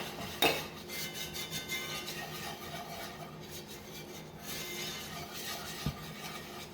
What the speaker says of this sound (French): Un tiers de tasse de beurre fondu avec un tiers de tasse de farine. Puis vous mélangez constant.